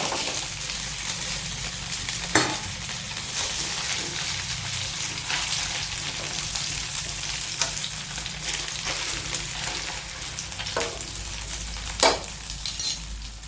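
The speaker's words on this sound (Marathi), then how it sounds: "याच्यात आपण हे आता तेल घालत आहोत आणि पहा हे गोळ्या आपण सोडत" Balls of poha dough frying in hot oil give a loud, steady, close-up sizzle that runs throughout, with a few sharper crackles and spatters rising above the hiss.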